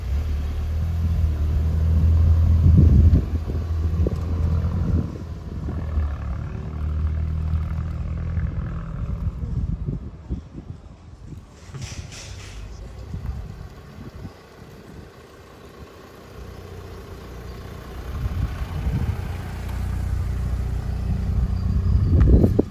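A remapped VW Scirocco R with a modified exhaust out on a short road test, its engine rumbling and droning as it pulls away, fading and easing off mid-drive, then swelling louder again toward the end.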